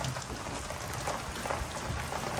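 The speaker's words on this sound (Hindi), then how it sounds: "बहुत ही सही बूंदे गिर रही हैं भाई।" Raindrops from a hailstorm in rural Bihar patter densely and steadily around the listener, a close, even hiss of drops striking surfaces with no break and no talking.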